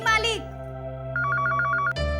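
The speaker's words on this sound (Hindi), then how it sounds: "फोन उठाओ, घंटी बजत बा" A telephone bell ringing in a Bhojpuri serial scene, a rapid repeating electronic trill that follows a brief voice, close and clear over a low steady hum.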